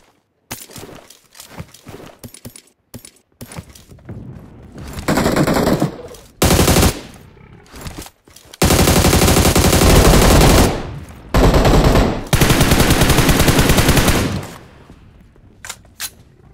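Rapid automatic gunfire from the LynX AMR weapon skin in a shooter video game, coming in long sustained loud bursts separated by short pauses and scattered single shots, with no talk over it.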